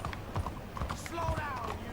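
Quick clip-clopping horse hooves on cobblestones in Red Dead Redemption 2, several brisk steps in a row, with a faint voice underneath.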